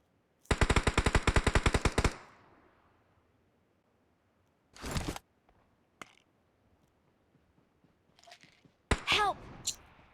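Sniper fire in a shooting video game: a rapid burst of about a dozen loud shots, then isolated single cracks and faint clicks spaced through the rest.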